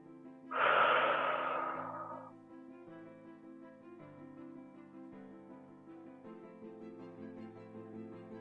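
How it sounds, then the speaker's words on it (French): Deep group exhalation during a gentle flexibility stretching class, one long breathy whoosh rising sharply and fading over about a second and a half, followed by soft sustained background music with no talking. "Soufflez bien."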